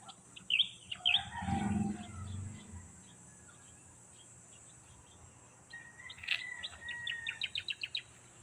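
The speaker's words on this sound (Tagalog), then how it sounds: "Yung ibon, ang ingay ng ibon." Birds chirp and call outdoors, a few sharp tweets early on, then a quick rapid series of chirps later, over a soft background hum of insects.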